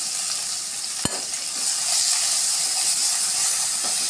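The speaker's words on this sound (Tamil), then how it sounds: "பூண்டு, வெங்காயம் இதெல்லாம் போட்டு சேர்த்து நல்லா ஒன்றா வதக்கிக்கலாம்." Garlic and onion sautéing in a pan for a Tamil greens curry give a steady, close, bright sizzle, with one sharp scrape of the utensil early on and no talking.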